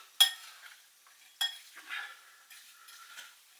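Apples, sultanas, spice and sugar are tossed together in a bowl, with sharp utensil scrapes and a few soft clinks separated by quiet pauses.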